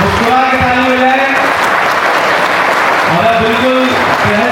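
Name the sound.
audience applauding at a yagya gathering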